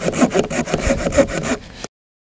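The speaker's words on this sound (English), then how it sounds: "next we're going to go with the Coleman Folding Saw" Coleman folding saw cutting solid hardwood, about ten quick rhythmic rasping strokes close up, ending abruptly in silence.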